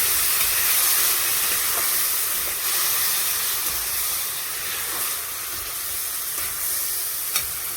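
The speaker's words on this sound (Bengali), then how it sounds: "একটু জল দিয়ে দিচ্ছি, মশলাটা পুড়ে যায়।" Water poured into spices frying in a hot pan for egg curry, a loud steady sizzle and steamy hiss that slowly softens over several seconds, with a brief clink near the end.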